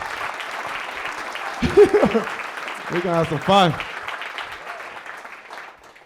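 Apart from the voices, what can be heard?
comedy show audience applause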